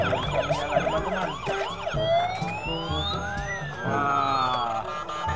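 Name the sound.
toy ambulance siren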